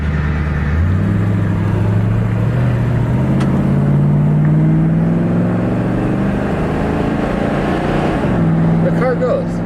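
A 350 V8 engine in a 1973 Chevrolet Monte Carlo drones loudly while driving, its pitch climbing through gear changes as the car accelerates.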